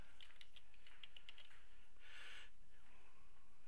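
Quiet clicking on a computer keyboard while IP addresses are entered into lighting setup software: a short run of light, irregular keystrokes, then a brief softer rustle, faint over a low background hiss.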